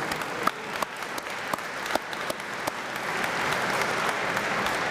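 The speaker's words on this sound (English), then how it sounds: "Let's give them a huge round of applause and thank you." Audience applause at an aviation advocacy day event, starting as scattered distinct claps that swell into denser, steady clapping from the gathered crowd, heard alone without talk.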